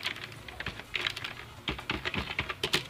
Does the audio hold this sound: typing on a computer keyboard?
yes